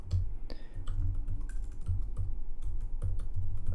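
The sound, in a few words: typing a command on a computer keyboard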